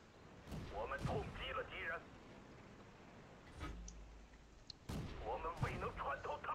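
Tank cannon fire from a Chi-Ha Tier III Chinese light tank in World of Tanks: a few booming shots and impacts, low-level and partly masked, mixed with a steady engine rumble, while someone talks over it.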